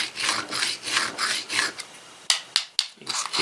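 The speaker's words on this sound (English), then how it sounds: "you hear how I'm slicing that rock?" A dull Oster kitchen knife scrapes across a rock in a run of rhythmic, rasping strokes, close and loud, followed by a few sharp separate scrapes after a short pause.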